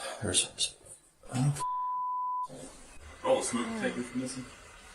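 A smoke detector gives a single sustained electronic beep of about a second, heard between stretches of people talking in a room.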